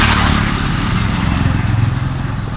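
A motorcycle engine runs steadily at idle close up, a loud continuous throbbing rumble with no pauses.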